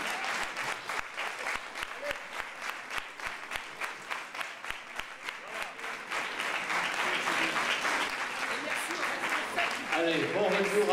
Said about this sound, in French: Merci, applaudissements nourris.